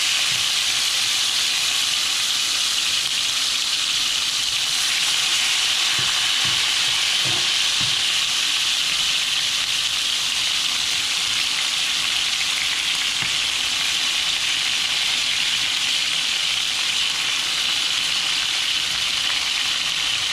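Steady loud sizzling and hissing of oxtails browning in a hot pan, continuous throughout with occasional faint clinks.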